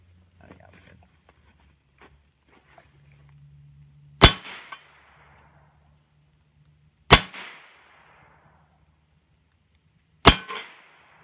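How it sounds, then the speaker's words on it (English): Three loud, sharp 9mm gunshots fired at a homemade armor panel outdoors, spaced roughly three seconds apart, each a close crack with a short ringing decay, after a quiet stretch of faint handling noise. "let's go ahead and get to the 9mm"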